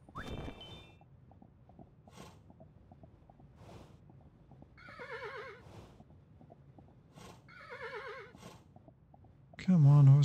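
A horse neighs in the Kingdom: New Lands video game, two wavering whinnies rising over soft plodding hoofbeats and quiet ambience, ending in a louder low burst.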